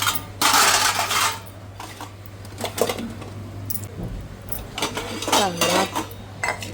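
Dishes, pots and cutlery clattering and clinking during night-time washing-up at a home sink, with running water, irregular bursts of metallic knocks and scrapes close by, no talking.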